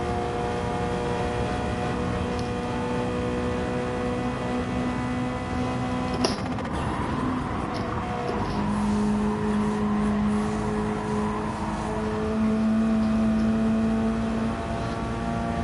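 A race car in a racing game holds a steady, droning engine note with a thin, high spool whine layered over it. Pitch shifts slightly at gear changes, and a brief knock comes midway.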